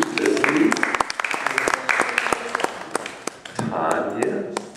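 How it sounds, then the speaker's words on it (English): An audience at a general membership meeting breaks into sustained applause, a dense wash of clapping with sharp individual claps, loud and close, with a voice speaking over it partway through. "give a big round of applause for all of our new members"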